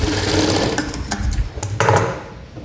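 A sewing machine double-stitches the joint of a round blouse belt, with a loud, close, continuous motor whir and a few brief changes in speed and light clicks.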